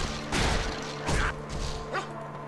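A dog in the video game Torchlight 2 lets out three short yipping barks in quick succession, fairly close, over a steady low game soundscape.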